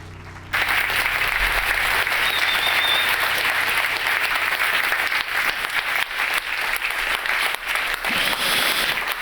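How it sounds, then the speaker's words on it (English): Big burst of audience applause at a DLD Health conference session on invasive brain-computer interface implants, starting abruptly after a short moment of quiet and holding as a loud, dense wall of clapping. "Big round of applause."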